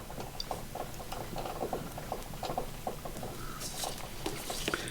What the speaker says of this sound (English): I don't know if you can hear that rain. It's torrential.